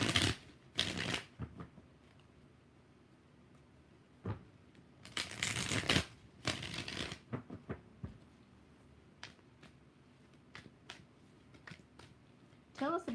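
Tarot cards riffled and shuffled in several quick bursts, close by, with short taps and quiet gaps between them and a voice speaking faintly in the pauses.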